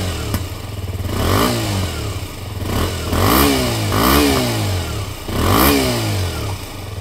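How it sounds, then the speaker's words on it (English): A 2018 KTM 125 Duke motorcycle engine idles with a deep, throaty exhaust note, blipping up into several short revs and settling back between them. "Got a nice tone to it, it's a nice deep tone, but it's not annoying at all."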